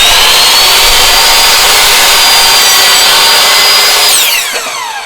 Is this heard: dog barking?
no